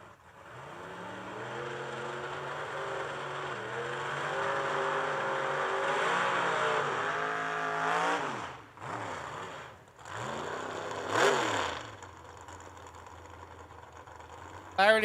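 Drag racing at the Yellow Bullet Nationals, including a 2002 Camaro, roars as a sustained high-revving engine drone that rises and falls, then cuts out in bursts and snaps back with a sharp rev near the end.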